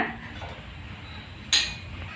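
A kadai (wok) set down on a stove, a single bright metallic clank midway through a quiet kitchen background.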